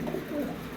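A Russian Gitgiri pigeon coos softly at close range, a short low throaty warble rolling over faint background noise.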